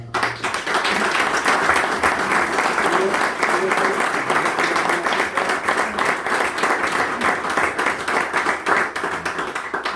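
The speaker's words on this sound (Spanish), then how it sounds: "Una ovación, por favor, para..." Sustained applause from an audience fills a cultural week gathering at the Club Taurino Mazzantini, a dense, steady clapping texture that stays loud and even throughout.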